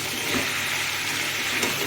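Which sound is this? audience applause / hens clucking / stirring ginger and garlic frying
stirring ginger and garlic frying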